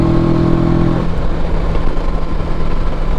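A Kawasaki Versys 650 parallel-twin engine drones loudly and steadily while riding, mixed with heavy wind rush, its pitch holding at a constant cruising speed.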